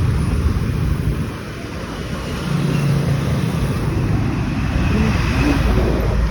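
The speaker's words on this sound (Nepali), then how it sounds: "यस्तो गाडीहरू आइरहेको छ धेरै नै" Heavy road traffic streams past on a dusty street in Nepal, a continuous broad rumble of many engines that dips briefly and then builds again, with no voices over it.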